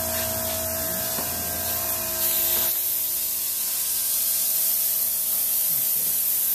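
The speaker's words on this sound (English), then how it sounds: "He is spraying a black paint in the letters after it's been sandblasted." A steady hiss of aerosol black spray paint running continuously into sandblasted letters on a stone monument, with a brief pause and then more spraying, close and fairly loud.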